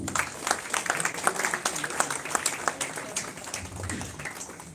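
Applause greets a jury member at a film festival award ceremony in India. A moderate crowd claps steadily with distinct individual claps, and a voice is heard faintly underneath.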